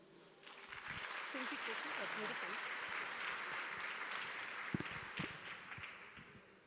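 Audience at a women's leadership summit clapping in a steady, dense burst of applause that swells in and holds for about six seconds, with a voice faintly audible underneath at the start.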